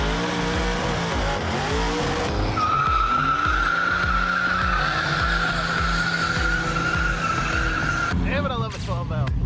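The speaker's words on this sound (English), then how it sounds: "Burnouts happening already, drag racing happening." A car doing burnouts at a drag racing event, with loud sustained tire skidding and a rising screech over a rumbling, revving engine close by, while people talk nearby.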